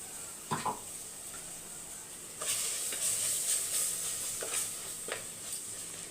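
Tomato paste being stirred into onion masala frying in a pan, for a vegetable kurma: a soft sizzle swells into a steady hiss, with a few scraping spoon strokes against the pan, fairly close.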